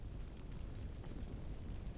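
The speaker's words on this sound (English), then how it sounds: "that's the sound of the heat storming around." Scorching heat storm effect in a video game, a steady roaring rumble of broad noise that holds loud and dense, heaviest in the low end, with no break and no voices.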